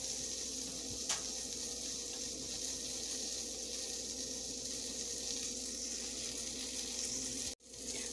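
Steady, hissing sizzle of turkey chops cooking on a hot indoor grill, continuous and moderately quiet, with a brief clunk near the end.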